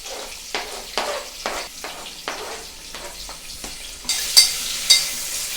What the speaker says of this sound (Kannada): ಎಣ್ಣೆ ಕಾದ್ಮೇಲೆ ಹಾಕಬೇಕು ಕರಿಬೇವು, ಪಲಾವ್ ಎಲೆ, ಈರುಳ್ಳಿ, ಹೆಚ್ಚಿರ್ತಕ್ಕಂಥ ಆಲೂಗಡ್ಡೆ